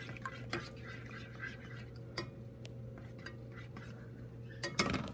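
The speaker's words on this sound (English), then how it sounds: "Stir this all together." A utensil stirs a candy omelet mixture in a pan on a stovetop, giving a few scattered light clinks and scrapes against the pan over a steady low hum, fairly quiet and close.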